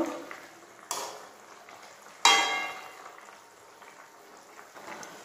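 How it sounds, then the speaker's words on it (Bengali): Koi fish curry with cauliflower simmers in a pan, a low bubbling broken by two louder splashy stirring strokes before it settles back to a quiet simmer. "একটু নেড়ে দেব।"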